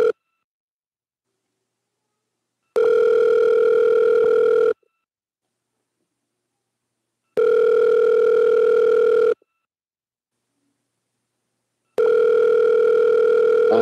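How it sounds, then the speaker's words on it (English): Telephone call ringing unanswered, three long electronic ring bursts of about two seconds each separated by silent gaps, loud and close with nothing else heard. "We're gonna call Diana here"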